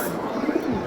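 A pigeon coos softly close by, a low throaty warble rising and falling in short repeated pulses over a steady background hum, with no speech.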